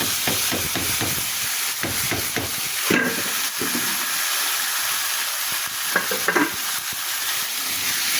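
Figs frying in a pan with turmeric and salt give a loud, continuous hissing sizzle, with quick spatula scrapes and taps at first, then mostly steady frying.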